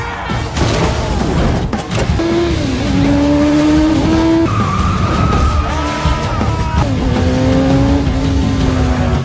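Tires squeal loudly as a car skids and spins around during a chase in an action film, the engine roaring under long rising screeches and sliding tones that continue without a break.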